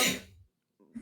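A single sudden sneeze bursts out loud and close at the start, then fades, with a brief murmur of voice returning after a short silence.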